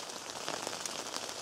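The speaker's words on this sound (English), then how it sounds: "As you guys can hear, guys, right now, the sleet and snow has transferred." Sleet and freezing rain falling steadily outdoors at a winter campsite, a dense, even patter of icy drops on surfaces, close and constant with no talk.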